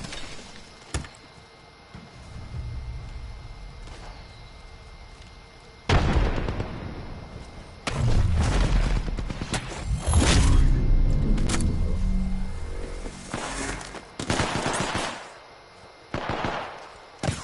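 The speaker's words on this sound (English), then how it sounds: "Getting shot at." Gunfire in Apex Legends comes in scattered shots and rapid bursts, some close and loud, others further off, with explosive thumps, breaking up a low rumble of in-game ambience.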